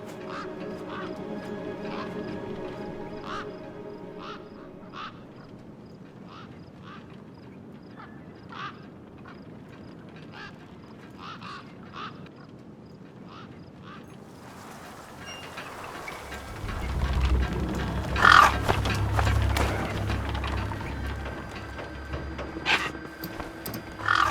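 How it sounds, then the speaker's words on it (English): Gang birds, scavenger fowl in the wasteland of the Beyond a Steel Sky video game, call in repeated short quacking bursts across a windy ambience, which turns louder and rumbling in the second half. "Then, I heard them. Gang birds, scavengers"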